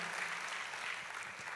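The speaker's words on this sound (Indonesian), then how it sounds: "Oh tepuk tangannya boleh yang paling meriah buat Yesus Tuhan kita." Church congregation applauding in a steady, dense patter of many hands, faint and continuous throughout the short stretch with no voices over it.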